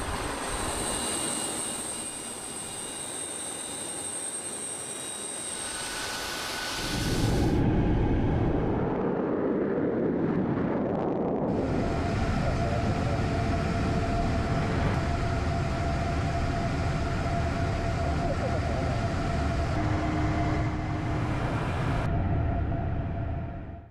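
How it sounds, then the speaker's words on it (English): Inside the cockpit of a Russian Tu-160M bomber in flight, a dense roar of jet engines and airflow fills the cabin, shifting in character midway, then continuing as a loud, steady rumble. "He's in a Russian Tu-160M bomber."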